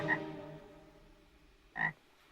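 Frog croaking in a film scene about reanimating a dead toad: a loud croak at the start with a long fading tail, then quieter, and a second sharp croak near the end.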